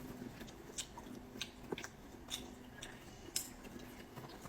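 Crunchy boneless barbecue being chewed close up, with soft irregular bites and crackles at a quiet level and no talking.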